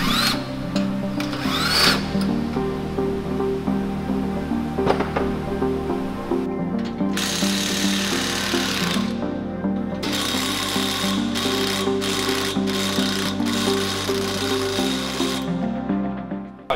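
A tool works against the axle housing of a Salisbury differential to spread it, a steady mechanical grinding and rubbing drone that shifts pitch in stages with brief interruptions, close and without talk.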